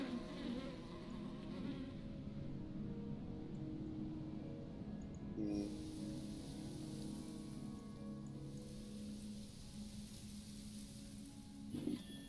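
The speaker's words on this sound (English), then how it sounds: "Bees, like librarians, are not to be trifled with." Bees buzz in the video game Book of Hours, a steady, soft insect drone that continues throughout with slight swells and no talking.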